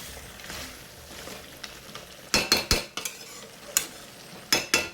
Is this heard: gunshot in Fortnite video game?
no